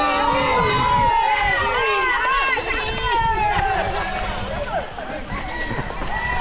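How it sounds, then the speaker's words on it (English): Spectators along a nature run course in Malaysia cheer and shout encouragement to passing runners, a loud, close mix of overlapping voices and calls that continues steadily. "So good people just come out to cheer us up."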